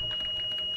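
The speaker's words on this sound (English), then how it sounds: "I can hear so many alarms happening" Steady high-pitched electronic tone with soft repeating beeps pulsing over a low hum, like cockpit alarms sounding together, in the cab of an MP36PH-3C locomotive in a train video game.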